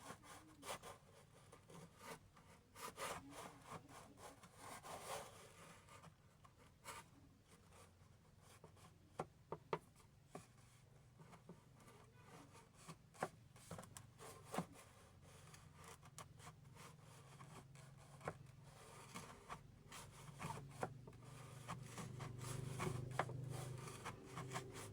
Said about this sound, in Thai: ตอนนี้คอยกำลังขัดเบสซิ่งนะทุกคนนะ